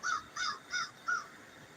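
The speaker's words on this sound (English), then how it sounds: "Did you just hear that crow caw?" A crow perched somewhere up on a building gives four harsh caws in an even rhythm, moderately loud and clear against a quiet background, with no talking.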